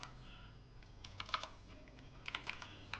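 Someone types HTML code on a computer keyboard, with light, irregular key clicks and a few sharper taps over a quiet background.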